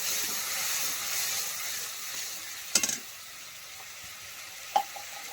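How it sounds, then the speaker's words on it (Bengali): Water poured into a hot pan of sizzling soybean curry, a steady loud sizzle and hiss throughout with two sharp splashy bursts partway through, no voices. "এবার আমি এই বাটি ধোয়া জলটা দিয়ে দেবো।"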